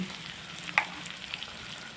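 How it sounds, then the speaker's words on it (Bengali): Ginger paste, green chilli paste, salt and turmeric fry in a pan for a mustard silver carp curry, giving a steady close sizzle with a light clink as the spices are stirred. "আর একটু নেড়ে চেড়ে ভেজে নেব রসুনের কাঁচা গন্ধটা বের হওয়া পর্যন্ত"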